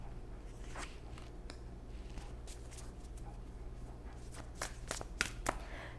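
A tarot deck being shuffled by hand, soft papery riffles and taps, quiet and close, growing busier with sharper card snaps in the last few seconds.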